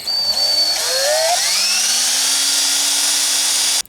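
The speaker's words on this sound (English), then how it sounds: "I'm going to take a very tiny drill bit right here, and we're just going to start a pilot hole" A small power drill with a tiny bit whines at high speed, drilling a pilot hole to install a spoiler on a Subaru Crosstrek XV, its pitch rising as it spins up, then runs steadily before cutting off abruptly.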